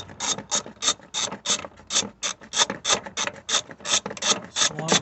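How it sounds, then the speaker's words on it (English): A hand ratchet clicks steadily while removing fender bolts on a Jeep Wrangler, with about twenty crisp, evenly spaced metallic clicks in a quick, regular rhythm, close and loud with no talking. "we're taking off those bolts."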